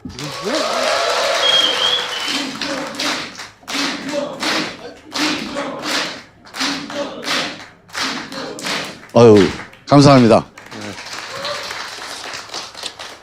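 A studio audience claps and cheers as a first-term lawmaker arrives as a guest on a political talk show, the applause surging in bursts and mixing with a voice speaking throughout.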